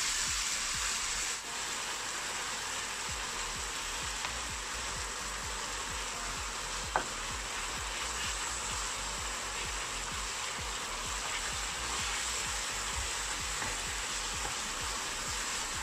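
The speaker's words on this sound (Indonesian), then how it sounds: "nanti si daging ini akan mengeluarkan yang namanya air. Jadi itu normal saja, tidak masalah. Kita masak sampai dia agak kering." Beef or lamb shawarma meat fries in a pan, giving off a steady, dense sizzling hiss that continues evenly throughout, with one small tap partway and no talking.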